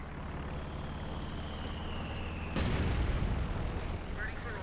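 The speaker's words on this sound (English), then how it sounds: "Granatenwerfer bombarding the British mortar" A Granatenwerfer mortar bombards a British mortar in Company of Heroes 2, with a steady rumble of battle and one sharp, loud blast midway followed by a rolling boom.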